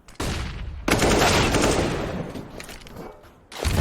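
Counter-Strike gunfire on Dust 2 in a competitive match, loud bursts of rapid automatic shots that start and stop abruptly, with short pauses between the volleys.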